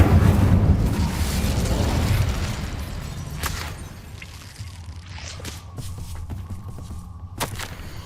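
Incendio fire spell cast in Hogwarts Legacy: a loud whooshing burst of flame that fades into a low crackle, followed by a few sharp pops and faint footsteps.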